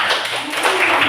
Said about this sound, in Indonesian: Ya tepuk tangan untuk jawabannya.